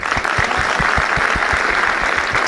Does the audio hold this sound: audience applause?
yes